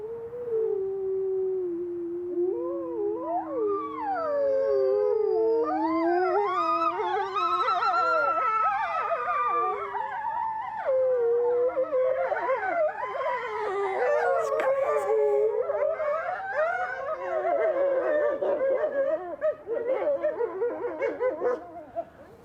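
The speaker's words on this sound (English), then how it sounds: "With that howling, I'd be so scared." A pack of wolves in Norway howling together, long overlapping rising and falling howls layered into a loud sustained chorus with occasional yips, close and continuous.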